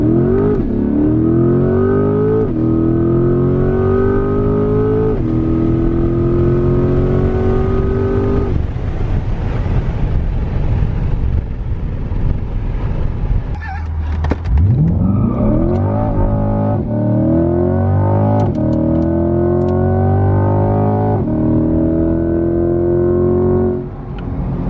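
A Chevrolet C8 Corvette pulls hard through several gears, each rising engine howl cut by a quick shift, then it eases off briefly before launching into another string of loud, climbing revs heard from inside the car.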